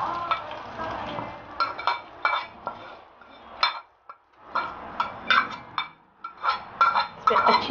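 A spoon stirs sizzling tadka in a pan for lauki raita, sending out close, irregular clinks and scrapes over a soft frying hiss, then briefly pausing before the stirring resumes.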